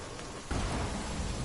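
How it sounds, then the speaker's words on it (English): Rain falls in Natlan in Genshin Impact, a soft continuous broadband patter that swells partway through and stays faint throughout, with no speech. "Hey, it's raining again."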